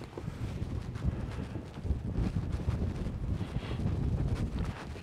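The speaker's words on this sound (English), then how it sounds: "Probably about 15 mile an hour wind." Wind of about 15 miles an hour on an 18-degree Alaskan mountain morning with light, powdery snow, a steady rumbling gusty roar buffeting the microphone, close and continuous, with no talk.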